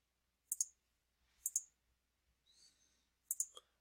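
Computer mouse clicking on a sprite in Scratch, three crisp double clicks spaced about a second apart, close and isolated against silence, with a faint soft rustle between them.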